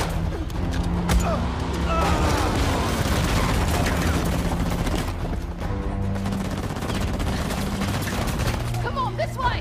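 Turret truck firing in Uncharted: The Lost Legacy, dense rapid gunfire and booms in a loud, sustained chaotic barrage, with a voice talking over the action.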